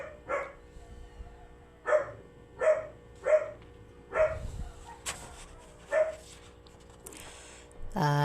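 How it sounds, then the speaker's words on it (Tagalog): A dog barks outdoors, a series of about seven sharp, evenly spaced barks at moderate distance. Quieter background noise and faint clatter follow the barks. "Kaingay ng aso."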